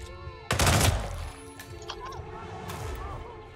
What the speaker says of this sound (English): Man, this rifle sounds very good.